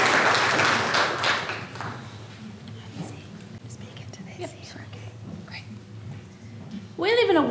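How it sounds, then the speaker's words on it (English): Audience applause at a Three Minute Thesis event greets a Faculty of Science speaker, strongest in the first two seconds, then thinning to scattered claps and murmurs before a voice begins. "please a warm round of applause for our sixth speaker today"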